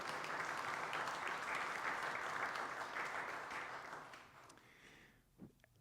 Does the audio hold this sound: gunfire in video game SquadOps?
no